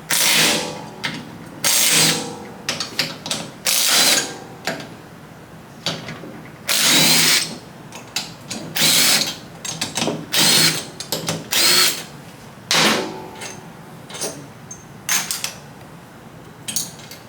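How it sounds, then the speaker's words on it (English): An impact wrench loosens tight 12 mm bolts during a Predator 212 small engine teardown, firing in loud repeated bursts of hammering whirs separated by short pauses and clicks. "I'm using an impact because they are fairly tight."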